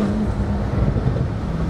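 The engine of a Porsche Techart GTstreet R, a tuned Turbo S, drones with a loud, steady low rumble from inside the moving car, mixed with road and wind noise.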